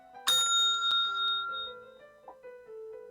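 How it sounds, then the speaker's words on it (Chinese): A bright electronic bell marking the station change in a food inspection Class C practical exam, one clear ding ringing out with sustained tones that slowly fade, heard alone. "每次听到铃声，例如这个"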